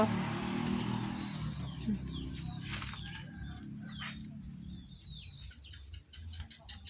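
Chickens on a small farm clucking and calling, with scattered short cries and chirps rising over a steady low rumble of outdoor background noise, moderately near.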